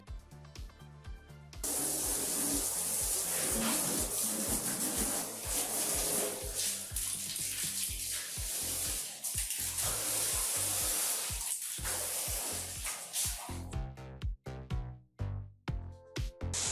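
A pressure washer sprays tap water through the fins of a window air conditioner unit, a loud steady hiss that holds for over ten seconds and then breaks into sputtering bursts, with a pump rattle underneath.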